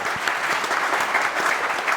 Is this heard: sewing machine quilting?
no